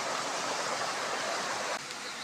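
A small river streams along in an even, close rush of flowing water that softens slightly near the end, with no voices.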